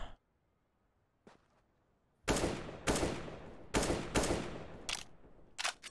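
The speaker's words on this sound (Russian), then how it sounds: "Это эхо моих выстрелов или это там другие выстрелы?" Gunfire in the video game CS:GO: several loud, sharp bursts of shots in quick succession after a quiet opening with a faint click, each blast trailing off briefly before the next.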